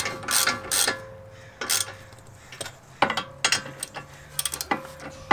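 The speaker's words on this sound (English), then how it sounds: "And then actually start using my ratchet" A hand ratchet tightening a brake caliper bolt on a VW MK6 during a brake job, clicking in quick bursts of ratcheting strokes separated by short pauses, close and fairly loud.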